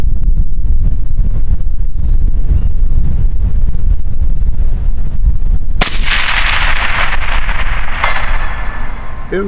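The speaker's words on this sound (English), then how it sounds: "Hopefully this microphone picks up, but man, it is nasty windy out here." Strong wind buffets an outdoor microphone at a long-range shooting spot, a loud continuous low rumble throughout, with a sharp rifle shot near the middle followed by a bright hissing burst and fading echo.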